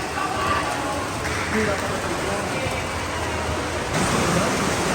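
Heavy rain pours steadily and loudly at an outdoor volleyball league game, a dense continuous wash with voices faintly underneath.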